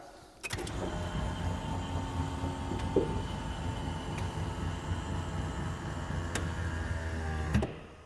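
The small series-wound electric landing gear motor of a 1958 airplane whirs steadily for about seven seconds, starting and stopping with clicks, loud and close, with no talk over it.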